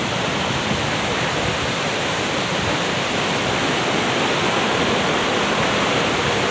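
A river rushing through forest at Jones Gap, a loud, steady wash of churning water filling the whole clip with no voices.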